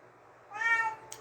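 A cat meows once, a clear, fairly loud call lasting about half a second with a brief high-pitched sound right after it, in an otherwise quiet room.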